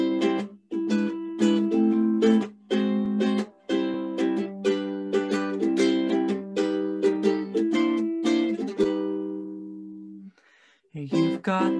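Live instrumental playing of a song, with rhythmic, close-sounding chords and a steady bass line, one short pause near the end, and no singing or talking.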